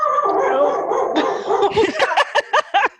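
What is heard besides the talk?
dog barking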